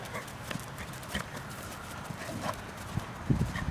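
A rescue horse canters around an arena, its hoofbeats landing in a steady three-beat rhythm of soft, moderately close thuds, with no talking.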